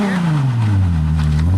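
Car engine held at full throttle during a burnout attempt, the pitch sagging as it strains under load, loud and close in a single sustained roar with no voices over it.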